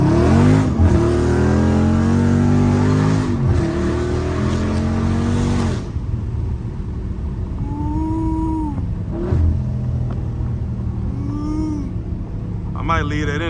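A Dodge Charger Scat Pack in manual revs hard while attempting to drift, its engine roaring loud and close through several throttle bursts before easing to a lower rumble, with someone talking over it.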